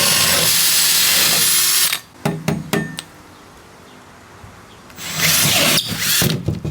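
A power drill bores holes for household plumbing drain lines, a loud whirring run that stops for a few sharp clicks and knocks, then spins up again.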